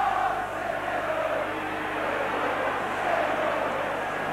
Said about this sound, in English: The Leeds crowd are loving this one